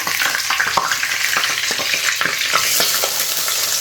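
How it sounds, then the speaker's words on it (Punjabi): Torn fresh curry leaves and dried red chillies sizzle in hot oil for a potato sabzi, a dense steady crackle with sharp pops and spoon scrapes scattered throughout, close and fairly loud with no talking. "ਫਰੈਸ਼ ਜਿਹੜਾ ਕੜੀ ਪੱਤਾ ਇਹਨੇ ਮੈਂ ਤੋੜ ਕੇ ਪਾਇਆ ਇਸ ਲਈ ਇਹਦੀ ਇਦਾਂ ਆਵਾਜ਼ ਆਉਂਦੀ ਹੈ"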